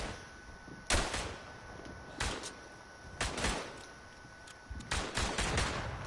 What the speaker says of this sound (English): We'll call a mortar in over there though